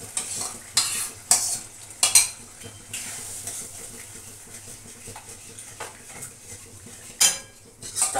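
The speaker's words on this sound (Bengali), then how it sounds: "দেখো মশলাটাকে আমি ভালো করে কষিয়ে নিচ্ছি" Spice paste of ginger, green chilli, cumin and turmeric being stirred and sautéed in a pan, with repeated loud metal spoon scrapes and clanks over a soft sizzle, no talking.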